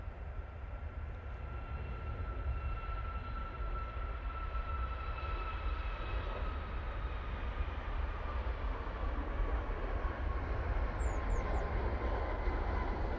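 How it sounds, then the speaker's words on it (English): A Ryanair Boeing 737 MAX takes off at Manchester Airport, its jet engines making a steady, broad roar with a faint rising whine, heard from a distance and sustained throughout. "Ryanair 737 MAX going off to Tenerife now"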